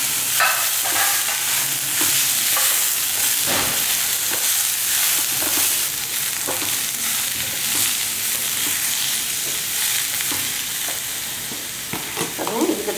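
Vegetables and a large tomato sauté in a pan for a vegetable and peanut chutney, giving a loud continuous sizzle broken by repeated scraping stirs of a spoon against the pan.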